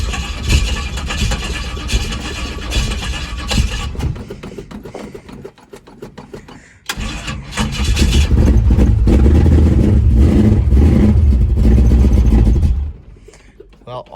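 1970 Pontiac Tempest V8 engine that had been sitting for years cranks and runs roughly, then revs up loudly for several seconds before dropping back to idle, close by with rattles.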